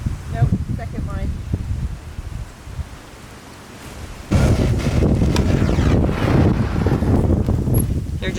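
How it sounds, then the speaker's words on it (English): Wind blowing outdoors in a homestead tomato garden, rumbling against the microphone, easing off for a moment and then surging into a louder, steady roar, with brief talk under it. "the wind is blowing"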